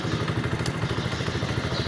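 A motorcycle being ridden by a learner on a first-time ride, its engine throbbing in a steady, close, even pulse for about two seconds with no voices.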